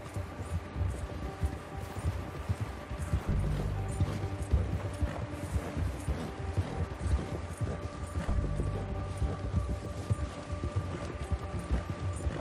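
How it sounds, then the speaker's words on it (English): A horse's hooves clip-clop in a steady, continuous gait in Red Dead Redemption 2, loud and up close over a game soundscape with a low rumble and tonal ambience. "Let's go, Horsey"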